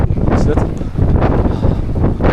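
Strong gusting wind buffets the microphone on the exposed Preikestolen mountain top, a loud, continuous roar with surging bursts, while a voice talks faintly beneath it.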